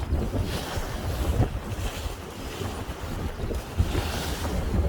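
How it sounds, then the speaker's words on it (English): A west-southwest wind blows steadily along the coast, roaring as broadband noise against the microphone and mixed with surf, with no voices present. "even today, there's a west-southwest wind"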